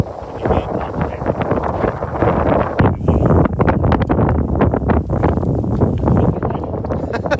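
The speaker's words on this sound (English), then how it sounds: "That wind really took you off." Strong gusting wind on open water batters the microphone around a boat held by heavy anchors, rising and falling in loud bursts, with people talking intermittently.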